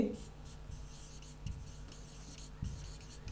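Marker or chalk moving across a board in a signals and systems lecture, soft continuous strokes with a couple of firmer taps, quiet and close with no talk over it.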